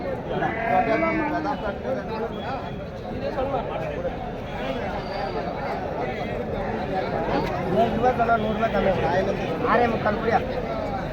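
Sheep and lambs bleat at the crowded Pochampalli sheep market, their cries mixed into a steady hubbub of people bargaining and talking nearby.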